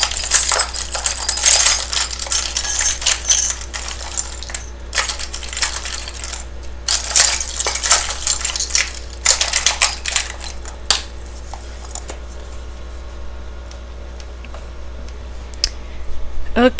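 Handfuls of small metal charms shuffle and clatter in bursts of dense clinking and rattling, loud and close, with brief pauses between handfuls.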